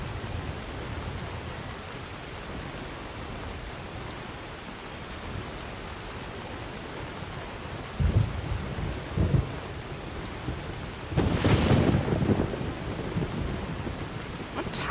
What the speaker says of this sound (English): It's raining too hard.